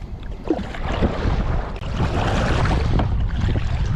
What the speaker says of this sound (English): This is one of them days. It's very windy.